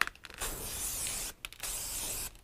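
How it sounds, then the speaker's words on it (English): An aerosol can of underbody wax sprays in two long, steady hissing bursts with a brief pause between, close and loud, applied during detailing of a new VW Golf GTI Clubsport. "Obviously give it a shake first, it's an aerosol."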